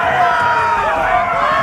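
Arena crowd in a Game of Thrones video game cheering and whooping in a loud, continuous roar of many voices.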